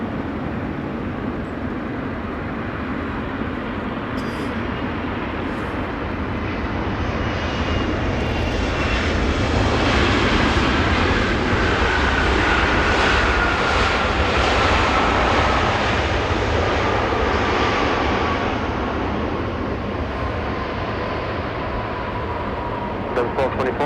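A Qatar airliner taxis at Los Angeles International Airport ahead of a south departure, its jet engines giving a loud, steady broadband roar that swells slightly midway and holds throughout, with no talk over it.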